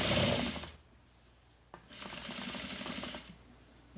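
A sewing machine runs in two quick bursts of rapid mechanical stitching on a fabric face mask, close and moderately loud, with a brief pause between runs.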